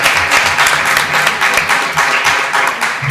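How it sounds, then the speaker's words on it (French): An audience at a conference talk breaks into sustained applause, many hands clapping in a dense, even patter that stays loud throughout. "Applaudissements."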